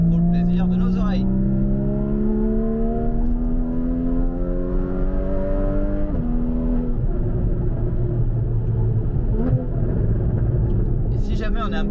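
A Porsche 981 Cayman 2.7 engine revs and climbs in pitch, dips sharply around the downshift, then picks up again. It stays loud and close, with a steady rumble beneath.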